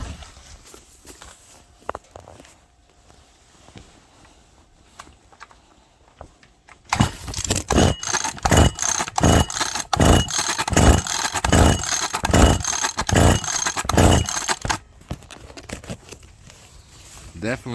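A Stihl FS 76 string trimmer engine pull-started repeatedly, a rapid series of loud rhythmic whirring cranks from the recoil starter without catching, close up, with quieter handling noise before and after.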